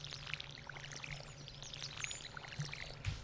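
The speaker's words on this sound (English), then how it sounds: "Now we get to water all of these crops." Water poured from a watering can over crops in Stardew Valley, a soft steady splashing pour that runs quietly and continuously throughout.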